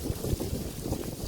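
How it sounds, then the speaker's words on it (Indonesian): Wind gusts through fallen autumn leaves along a walking path in Seelisberg in October, a steady broadband rushing rustle with uneven swells and no voices. "Suara daun-daun ini kedengaran ditiup angin."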